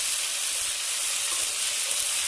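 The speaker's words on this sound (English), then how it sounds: "We'll saute nicely again." Coriander powder, cumin powder and salt sauteing in a pan for Bengali rui fish curry make a soft, even sizzling hiss throughout, with no voices.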